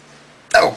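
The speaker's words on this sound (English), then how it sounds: "Don't drink that. It causes hiccups." A single short, sharp hiccup after drinking, close and abrupt, breaking a near-silent pause.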